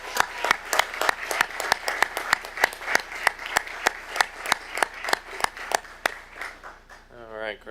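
Scattered applause at a school board meeting, with fairly distinct individual claps in a loose rhythm from a modest group, trailing off near the end as a brief sound intrudes.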